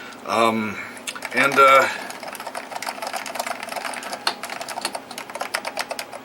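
Rapid keystrokes clatter on a Heathkit H-248 AT computer keyboard with an XT layout, a dense run of clicks following two short bursts of voice at the start.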